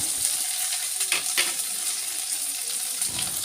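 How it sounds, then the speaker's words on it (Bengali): An egg seasoned with turmeric, salt and coriander leaves fries in a pan, a soft steady sizzle with a few faint clinks and stirring sounds close by, without talk. "ডিমে আমি হলুদ লবণ সব দিয়েছি, আর তার উপর আমি ধনে পাতা দিয়ে এটা ভেজে নিলাম।"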